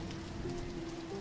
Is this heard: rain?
yes